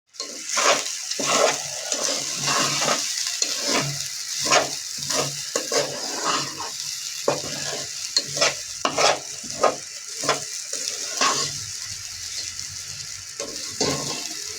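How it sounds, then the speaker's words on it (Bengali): Khichuri frying in cow oil in a pot, stirred over and over: repeated scraping, clattering stirs in an irregular rhythm over a steady close sizzle, with no talking. "এখন শুধু ভাজা হচ্ছে"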